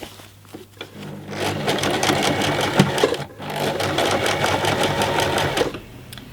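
A sewing machine runs steadily, stitching over the side seam of a tote bag. Its rapid, continuous whirr is loud and close, with a brief pause midway before the run resumes, then a slowdown at the end.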